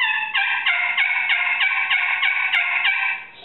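Hickory friction turkey call worked with a striker to imitate a turkey hen yelp: about nine evenly spaced, loud, raspy two-note yelps in a steady rhythm, heard alone.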